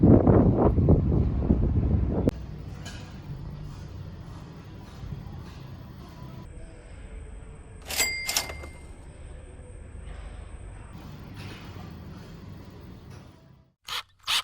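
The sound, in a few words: wind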